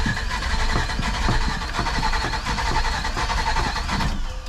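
A dually pickup truck's engine cranks after a battery replacement, with a rapid rhythmic chugging of the starter and engine that stays loud and close throughout.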